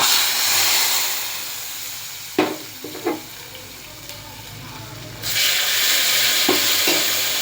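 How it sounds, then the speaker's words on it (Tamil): Dried manathakkali vathal fries in oil for kara kulambu with a loud, steady sizzle, broken by a few sharp clacks of stirring, while the frying hiss swells again toward the end. "இப்போ வத்தல் போட்டு நம்ம வந்து பொரிய விடுறோம்"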